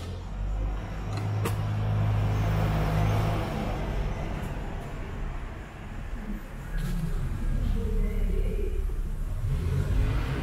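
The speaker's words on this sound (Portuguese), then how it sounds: "a oficina aqui é muito barulhenta" Loud, steady workshop din fills an auto repair garage where a Honda Fit's brakes are being serviced, with low engine rumble and vehicle noise throughout, a few sharper clanks, and no clear voices.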